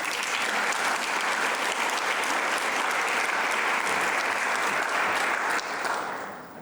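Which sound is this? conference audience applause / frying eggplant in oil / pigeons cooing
conference audience applause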